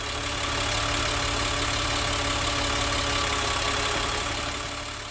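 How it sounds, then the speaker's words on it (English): A Caterpillar HEUI diesel engine idles steadily at full operating temperature, a close, continuous low rumble with an even rapid pulsing and a faint mechanical knock throughout, with no voices. "let's start the engine and listen to what it sounds like at idle for a few seconds"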